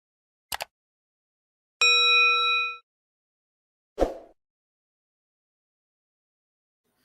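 A single clear notification ding sounds for about a second, with brief sharp clicks before and after it and silence in between.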